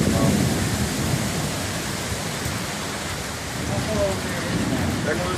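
Severe thunderstorm near a school gym in Batesville, Arkansas, during a small June tornado: steady heavy rain and wind roar with low rumbling thunder throughout, loud and close, with brief voices under the noise.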